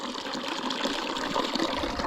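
Water gushes steadily from a tap into a condom, a soft continuous pouring and filling sound heard alone at moderate level.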